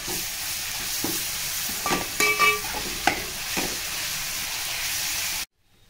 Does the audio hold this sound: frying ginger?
yes